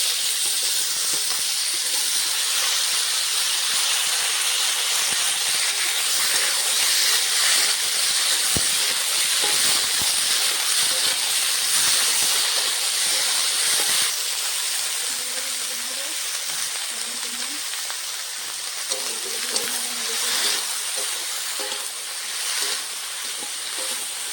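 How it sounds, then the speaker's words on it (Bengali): Steady loud hiss and sizzle of potatoes and eggplant frying in a pan with dried chilli, bay leaf and five-spice, continuous throughout, with faint clinks and low tones near the end. "তরকারিটা ভাজা হচ্ছে"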